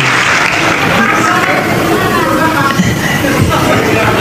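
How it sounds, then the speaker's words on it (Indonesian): A loud, close audience claps on request at a Christian talk, producing a thick, continuous roar of applause blended with crowd murmur and some speech. "tepuk tangan dulu"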